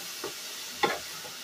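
Grated carrot hitting hot ghee spiced with cardamom, giving a soft, low sizzle broken by a few stirring scrapes, one sharper clatter near the middle, close and fairly quiet with no talk.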